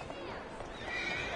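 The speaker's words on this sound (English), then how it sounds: "Who's a good horse? You are." A horse in the video game Assassin's Creed Syndicate gives a brief whinny close by, with a faint voice behind it.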